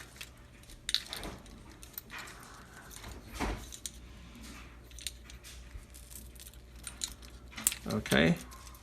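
Flex cable being peeled up and undone from a DJI Phantom 4 Pro Plus gimbal during a rebuild, heard as scattered close, quiet crinkles and small clicks with a brief louder tearing rustle near the end.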